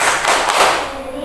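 A classroom of students claps hands together in a rhythmic clap chant during an ice-breaking activity, heard as a brief, close burst of several quick, sharp claps.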